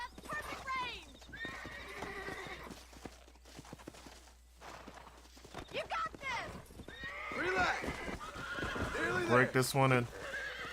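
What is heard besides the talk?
horse neighing and hooves clip-clopping in Red Dead Redemption video game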